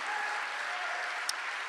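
A church congregation claps along in praise, a dense, even wash of applause held steady throughout with one sharp crack near the end.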